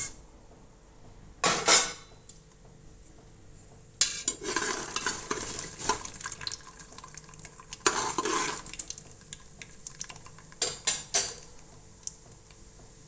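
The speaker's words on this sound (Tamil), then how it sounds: "கடுகு நல்லா பொரியட்டும்." Mustard seeds splutter in sesame oil inside a large pressure cooker, with sharp crackling bursts that start and stop in clusters, mixed with metallic clinks of a spoon against the pot.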